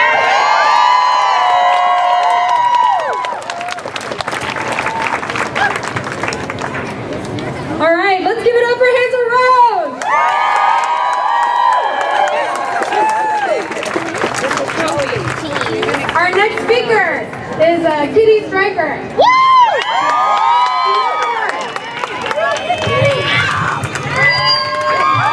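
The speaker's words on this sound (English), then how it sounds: "clap for that queen" An outdoor crowd at an International Women's Day gathering in Justin Herman Plaza cheers, whoops and shouts loudly, with voices chattering throughout and little distinct clapping.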